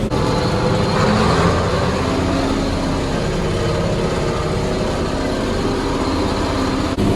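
A steady, loud John Deere 4020 tractor engine drones continuously with a low rumble and mechanical rattle, running at constant speed throughout.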